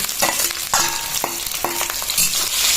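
Onion, chili and garlic fry in hot oil for a dried baim eel curry, a loud continuous sizzle broken by several sharp scraping stirs of a spatula in the pan, close up and without talk.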